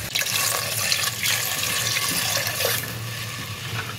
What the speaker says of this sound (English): We put in about 600 ml of water.